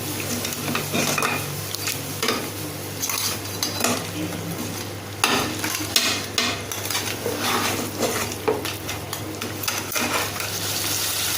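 Crab biryani masala sautés on low heat in a pan, a continuous soft sizzle under frequent metal spoon scrapes and clinks against the vessel, close and steady throughout.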